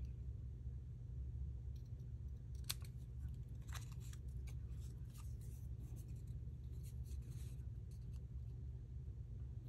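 Scissors snipping paper while trimming a paper-piecing shape, with short crisp cuts in an irregular run over a steady low rumble like a nearby car.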